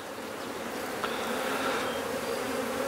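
Honeybees buzzing around a hive during a shook swarm, a dense continuous hum of many insects close by with no voices.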